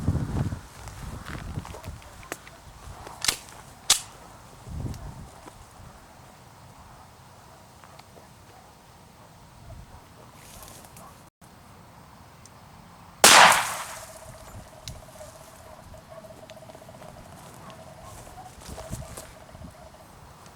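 A single sharp .45 ACP pistol shot fired into a ballistic test block cracks out loud and close, with quieter handling and movement noises before and after; an earlier faint pop is also present.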